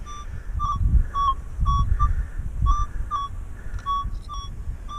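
Minelab E-Trac metal detector sounding over a freshly buried silver Mercury dime about four inches deep, giving a repeating series of short, clear beeping tones in a steady rhythm over low rumbling handling noise, with no voices.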